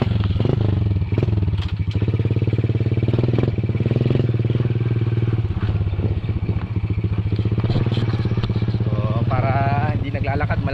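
Borrowed motorcycle ridden along a muddy rural road, its engine droning steadily and close throughout, with rattling clatter and occasional scrapes over the running motor.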